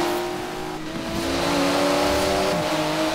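A turbocharged, tuned and lowered Kombi van accelerating hard, its engine note rising in a steady loud drone with a brief dip before climbing again, close and alone without speech.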